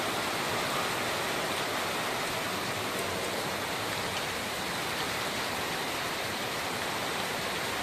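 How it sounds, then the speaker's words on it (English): Heavy rain pours down steadily before a thunderstorm, making a dense, even, continuous hiss with no breaks and no voices. "But it's still just rain."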